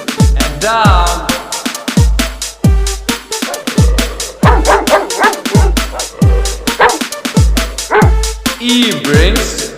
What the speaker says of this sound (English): D brings a dog.